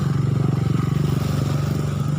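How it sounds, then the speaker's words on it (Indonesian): A motorcycle engine runs close by with a steady, loud, throbbing drone that holds level for a couple of seconds before easing slightly. "Jadi ada motor lewat guys."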